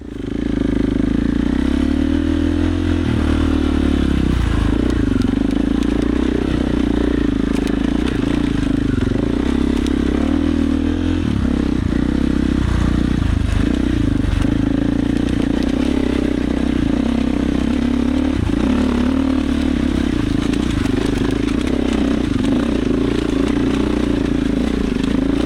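KOVE 450 Rally and KTM 450 XCF-W dirt bikes riding through mud, a steady loud engine drone with revving surges and clattering throughout.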